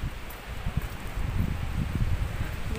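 Cold wind on a sunny seaside promenade, gusting across the microphone in a rough, low buffeting roar with rustling texture that builds slightly and holds steady, no voices.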